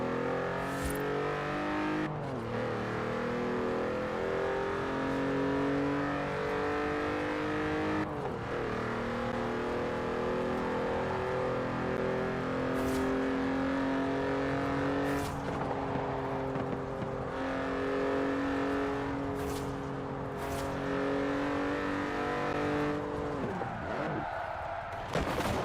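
Car engines drone steadily in a driving video game, a continuous revving tone that shifts pitch with gear changes and acceleration, loud and close throughout with occasional sharp clicks.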